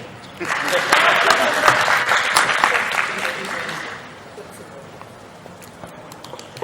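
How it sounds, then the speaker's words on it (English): Applause from a forum audience swells for several seconds, fairly distant and even, then thins out and fades to scattered noise. "Won't you clap for me?"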